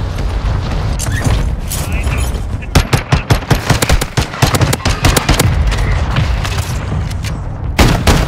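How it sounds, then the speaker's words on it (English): Loud explosions and rapid gunfire bursts from a mortar strike in a multiplayer shooter video game, dense overlapping blasts packed together with players talking over the action. "Mortar strike on me?"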